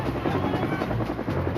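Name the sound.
Colombian Army helicopter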